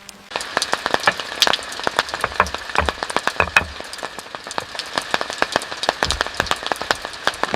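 Heavy rain falls in a forest, with irregular, close drops pattering and tapping in a steady, uneven stream over a soft background hiss.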